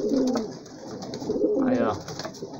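Barred pigeons coo in a close, steady run of soft, throaty calls, while a voice briefly speaks over them.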